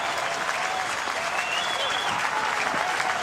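A baseball crowd at an NCAA regional game applauds a base hit with sustained clapping and cheering, loud and continuous throughout.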